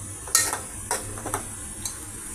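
Broad beans being stirred in oil in a pan for a broad bean and tomato curry, with a few sharp utensil scrapes and clinks against the pan over a soft, steady background hiss, quiet and close.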